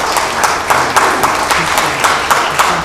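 An audience at a city council meeting in Beacon claps in a brisk, steady round of applause, loud and close, with faint voices mixed in.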